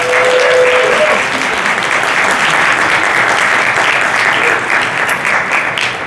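A crowd at a Chicago business networking event gives sustained, loud applause that lasts the whole stretch, dense and even clapping from many hands in a large room, with a brief tone near the start.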